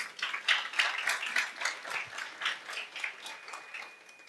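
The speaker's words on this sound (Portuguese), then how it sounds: "Diga amém e aplauda Jesus" A church congregation at a celebration service applauds with uneven, rhythmic clapping that swells and ebbs in pulses, moderately loud and close.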